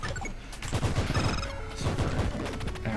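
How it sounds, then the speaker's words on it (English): Explosion and crashing gunfire-like bursts in a video game, a dense run of loud impacts and rumbling blasts that fills the whole moment with no voices. "The explosion."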